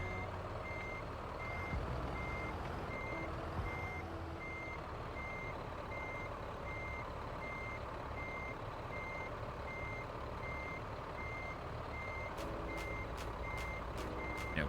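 A truck with a double trailer reverses with evenly spaced backup beeps repeating steadily under a constant engine rumble, with a short burst of faster clicks near the end.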